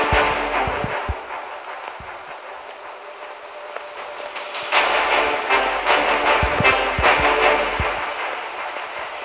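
A subway train runs in the Suicide Squad mobile game, a rumbling, rattling rush with rhythmic clacks and low thuds that swells louder midway, with no voices.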